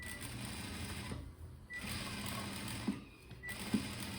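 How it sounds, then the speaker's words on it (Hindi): A sewing machine stitching along the edge of a blouse: faint running whir in bursts with short pauses between them, and a couple of light knocks, close up with no talking. "अब हम इसको ये किनारे की सिलाई वर्क के लगाएंगे पूरा।"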